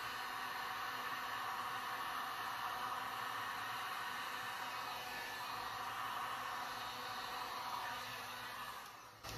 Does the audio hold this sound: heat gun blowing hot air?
yes